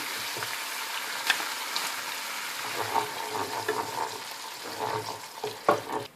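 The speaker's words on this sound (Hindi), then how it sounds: "और अब मैं इसमें ये दही डाल दूंगी" Yogurt goes into a frying tomato paste for Bengali chicken roast gravy, giving a continuous close sizzle with intermittent clinks and scrapes of stirring that grow busier toward the end.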